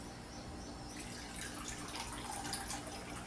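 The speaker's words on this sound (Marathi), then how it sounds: "त्याच्यामध्ये मी थोडंसं कोमट पाणी टाकून देते" Quiet, steady trickle of lukewarm water pouring into juice for a few seconds, soft and close, with faint dripping and no voices.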